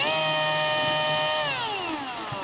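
A power drill driving a tap back down to countersink a screw, a steady close whine that slows and drops in pitch toward the end, alone without talk.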